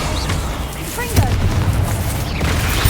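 A Confringo fire spell in the Hogwarts Legacy game bursts with a loud booming blast over a busy, continuous layer of combat effects, with a spoken voice briefly heard alongside.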